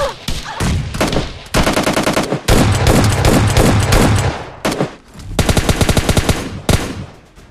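Rapid automatic gunfire in a battle royale video game, loud sustained bursts of machine-gun fire broken by short pauses, close and dense with no talking.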